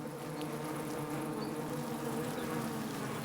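Worker honeybees buzzing inside a hive while stocking winter supplies, a dense steady drone of many insects with no gaps, moderately quiet and even throughout.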